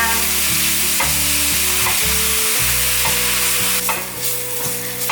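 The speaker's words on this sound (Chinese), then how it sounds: "把金针菇炒成金黄色，炒香" Enoki mushrooms stir-fry in hot oil with a loud continuous sizzle, broken by rhythmic clanks and scrapes of a spatula against the pan, close and without voices.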